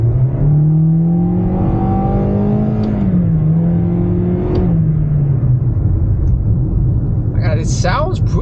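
A 2024 Toyota Corolla Hatchback engine pulls uphill, its loud, close drone climbing steadily in pitch, dipping at a shift, then rising again before settling; brief talk near the end.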